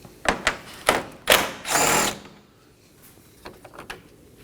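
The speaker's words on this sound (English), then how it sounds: "Now to the other corner of the headlight to remove our last bolt." Ratcheting and clicking from a hand tool backing out a 10mm bolt at the corner of a Nissan Maxima headlight, several short close bursts followed by a longer run, then a few faint taps.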